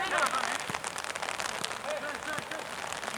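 Steady rain pattering on a surface through an outdoor amateur football match between Rustic Team and Ciudadela Jrs, a dense continuous hiss with scattered drop crackles and faint distant voices underneath.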